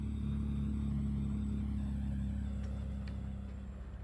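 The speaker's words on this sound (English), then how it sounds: "Man, I just love the sound of this truck here." A truck engine in Farming Simulator 25 drones at a steady low idle, close and constant, with no talking over it.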